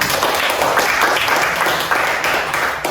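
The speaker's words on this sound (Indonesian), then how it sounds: "Tepuk tangan dulu untuk kita semua" A crowd applauding loudly and continuously after a Catholic Eucharist lesson, dense clapping from many hands close by.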